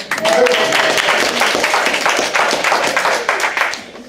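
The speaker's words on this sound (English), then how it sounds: "I want to make sure everybody gets the clapping in here" An audience at a talk in North Carolina claps steadily, a dense, close wash of hand claps sustained through the whole stretch.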